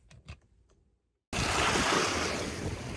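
Surf and wind rush in at Sombrero Beach, starting abruptly after a second of near-silence and a few faint knocks, then holding a loud, steady, broadband roar that blows across the microphone.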